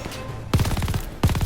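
Fast, loud bursts of MG42 machine gun fire in the video game Call of Duty Vanguard, two short rapid-fire bursts with a brief gap between them.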